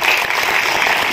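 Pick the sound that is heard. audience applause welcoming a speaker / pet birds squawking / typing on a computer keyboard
audience applause welcoming a speaker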